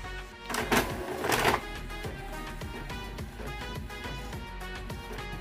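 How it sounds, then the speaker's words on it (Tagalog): Epson L3110 inkjet printer printing a document, a steady mechanical whir with rapid rhythmic clicks and two louder bursts of feed noise near the start. "nasend na po yung piprint ng document sa ating printer"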